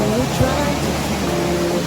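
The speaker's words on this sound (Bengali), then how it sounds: "উত্তাল বিয়াস নদী।" Turbulent Beas river in flood rushing below a roadside through a debris-strewn valley, a dense, steady broadband roar throughout, with talk over it.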